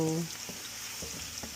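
Garlic fries in a pan for pork loin fried rice, giving a steady close sizzle and crackle with a few soft stirring scrapes. It runs throughout at a moderate level after a brief voice at the start.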